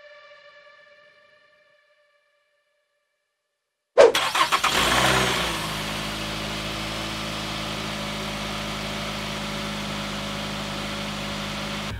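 A Nissan Teana L33 car, its battery just changed, cranks and fires up loudly after about four seconds of near silence with faint tones at the start, then settles into a steady, close engine idle.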